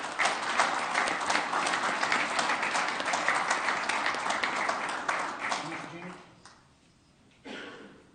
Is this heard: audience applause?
yes